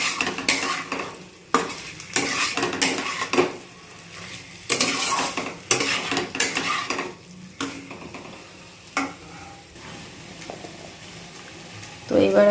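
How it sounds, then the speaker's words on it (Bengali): Ingredients being sautéed in a pan for a home-cooked curry, with a utensil scraping and stirring in repeated bursts over a soft sizzle, close and fairly loud, with brief quieter pauses between strokes. "এটা দিয়ে ভালো করে এখন কষিয়ে নেব"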